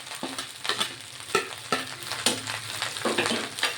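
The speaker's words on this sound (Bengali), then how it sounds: "ভাতটা আমি ভালো করে ভেজে নেব" Cooked rice being stir-fried in a pan for veg fried rice, with a close, steady sizzle broken by repeated scraping strokes of a spatula at a quick, uneven rhythm.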